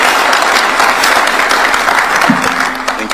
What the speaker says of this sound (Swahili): Tumpigie makofi yake.